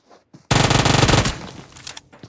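A loud burst of rapid automatic gunfire in the mobile battle-royale game PUBG Mobile during a tournament match, sustained for about a second before trailing into scattered echoes.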